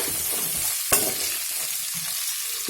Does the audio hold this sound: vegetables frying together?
yes